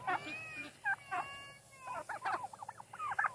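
Four-month-old juvenile turkeys in late August, strutting in a pasture: a string of quiet, fairly close clucks and gobbling chirps in short irregular bursts, with brief pauses between calls.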